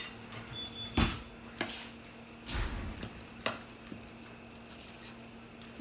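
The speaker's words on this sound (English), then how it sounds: "Give it a good stir." Vegan oatmeal apple cinnamon muffin batter stirred in a bowl, with several soft, damp thumps and scrapes of the spoon against the sides at an uneven pace, quiet and close.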